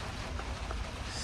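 Steady rain falls outdoors on an early morning, a soft, even hiss of drops spread across the whole short stretch with no break.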